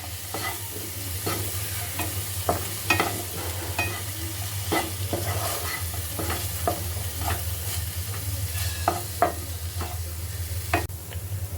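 Spoon scraping and stirring a thick garam masala mixture in a pan for matar karanji filling, with a steady soft sizzle underneath and repeated close scrapes and taps at an irregular rhythm, no talking.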